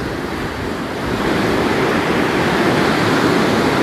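Waves break on a rocky beach where people search for rocks, giving a loud, steady wash of surf close by with some wind rumble and no voices.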